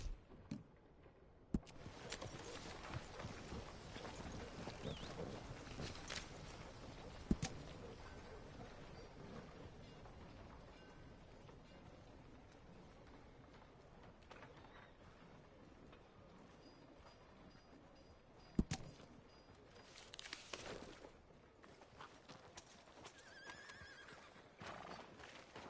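A horse neighs and its hooves clip-clop at a trot, faint and somewhat distant over a low background, with a few sharp knocks breaking through.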